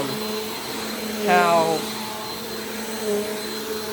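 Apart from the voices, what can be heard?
Bissell PowerForce Compact vacuum cleaner running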